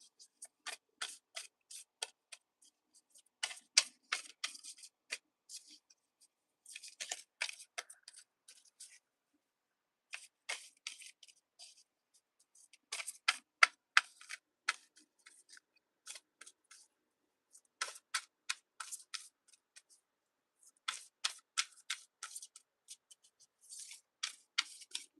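Tarot cards shuffled during a live reading, close and crisp, in repeated bursts of riffling and sliding with short pauses between them in an otherwise quiet room.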